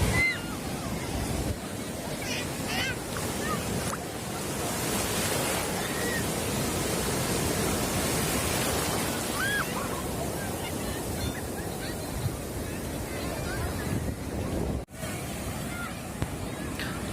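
Steady roar of surf rolling onto the beach at Puri, broad and continuous, with faint distant voices of bathers mixed into the wash.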